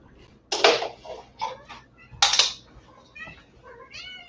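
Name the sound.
cat meowing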